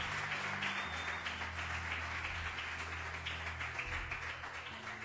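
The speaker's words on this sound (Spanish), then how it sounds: "Dele ese aplauso fuerte." Church congregation claps during a Spanish-language sermon, a quiet, distant patter of hands over a sustained low organ or keyboard drone that shifts pitch midway.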